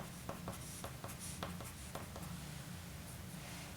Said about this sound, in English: we'll write down all our information